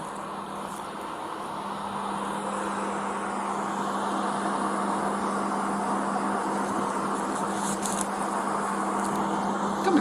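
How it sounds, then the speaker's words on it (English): Steady roar of road traffic across the road, a continuous broadband wash with a constant low engine hum, moderately loud and unbroken throughout, with no voices. "however loud the background noise is from the traffic on the other side of the road there"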